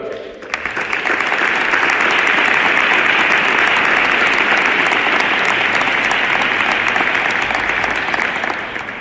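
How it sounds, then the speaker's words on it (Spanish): An ovation at a Jerez saeta exaltation event in a hall: after a brief moment of speech, a full audience breaks into loud sustained clapping that stays dense for several seconds before tapering slightly at the end. "les pido ya la primera ovación de la noche"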